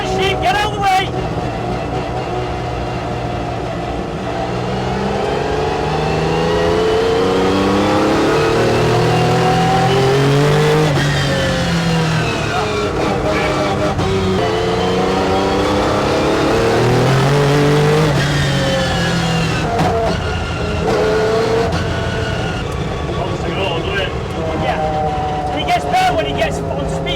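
An MG Metro 6R4 rally car on road tyres drives hard down a country road, its engine loud and close, rising and falling through repeated revs and gear changes, with people talking over it.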